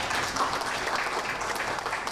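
Audience clapping fills a graduation ceremony hall on campus, a dense, steady wash of many hands that holds at an even level without letting up.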